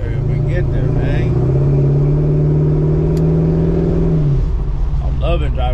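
A car with a new muffler and exhaust drives along under a loud, steady low engine drone that holds a rising tone for a few seconds before easing off, with someone talking over it.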